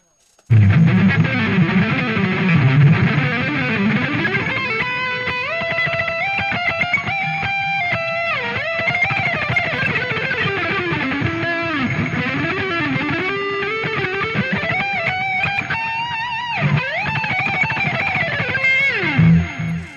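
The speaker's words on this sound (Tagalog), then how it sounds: "tignan nyo mag-shred ako na nakataas yung gain ng black box" High-gain electric guitar played through a Mvave Black Box, fast shredding runs and sliding distorted lead lines, loud and continuous with brief pauses between phrases.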